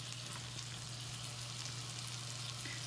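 Pain perdu sizzles in a large pan, a soft, steady crackle of frying with a faint low hum beneath, quiet and unbroken.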